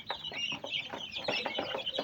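Chickens cluck in a rhythmic run of short, close calls among a backyard flock, steady and fairly loud with no talking.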